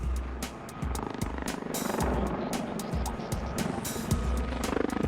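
A Westland Lynx helicopter, the fastest production helicopter, thuds with steady rotor beats and a turbine whine, loud and close throughout.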